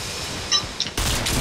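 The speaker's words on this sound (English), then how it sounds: "And I'm already being shot at again." Gunfire in a Fortnite battle royale match: a short volley of shots bursts out around the middle, then a louder, denser stretch of firing carries on to the end, with no talk over it.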